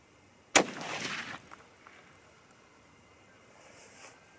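A single sharp 30-06 Springfield rifle shot cracks loudly at an outdoor range with targets at 100 yards, followed by a brief decaying echo and then quiet wind.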